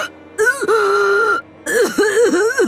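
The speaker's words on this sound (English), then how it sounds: "Her insane laughter turned into a painful cough" A woman in the video game Umineko breaks from insane laughter into a painful cough, with strained voiced hacks and rasping gasps in two bursts, close and loud.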